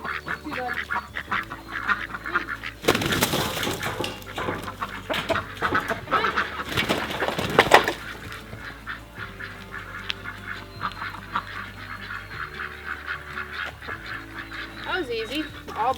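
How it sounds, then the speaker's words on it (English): Ducks and geese on a homestead call as they are herded in for the night, a busy chorus of quacks and honks peaking in a loud burst midway, with a person talking intermittently. "Where are all my ducks? Are they already in?"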